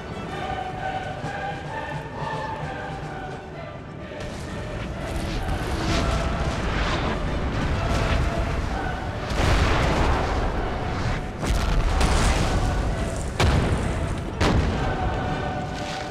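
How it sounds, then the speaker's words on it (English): Austrian artillery batteries fire on a Napoleonic battlefield in Napoleon: Total War, heavy booming cannon blasts rolling over each other in dense, continuous volleys with rumbling low thuds, loud and close, with no talk over them. "That battery is still taking lots of heat from the Austrian artillery"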